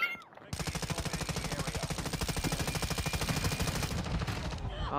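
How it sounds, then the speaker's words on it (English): Sustained rapid automatic gunfire in a video game, a steady loud stream of shots lasting several seconds with faint voices briefly at the edges. "Oh, that's why you're shooting this guy."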